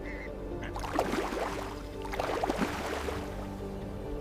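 Common eider sea ducks give soft, crooning and quacking calls in two short bursts over a steady background hum, fairly close and moderately loud.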